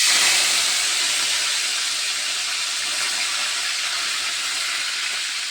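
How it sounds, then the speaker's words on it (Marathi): Loud, bright, continuous sizzle of curry leaves crackling in hot oil in a wok, holding steady throughout with no talking. "कढईमध्ये तेल तापायला ठेवलं आहे आणि त्याच्यात टाकते कढीपत्ता"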